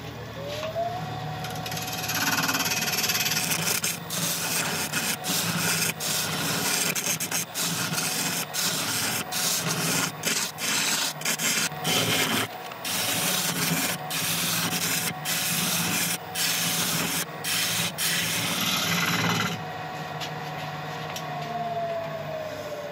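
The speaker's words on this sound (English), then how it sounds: "Ball gouge is having a horrible time. It's just kind of skipping across the surface of the denser wood." A ball gouge on a wood lathe skips and chatters across dense greenheart and purpleheart wood while turning a mallet, a steady rasping scrape over the spinning workpiece, broken by rapid regular ticks, with the motor hum fading in and out at either end.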